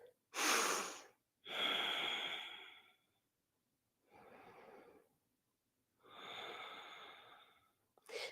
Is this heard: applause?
no